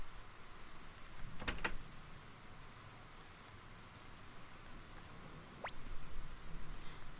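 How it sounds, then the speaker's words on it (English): Steady rain falls in Suikoden, a soft, even hiss that carries throughout, broken by a couple of brief sharp clicks and a short rising chirp. "It won't stop raining."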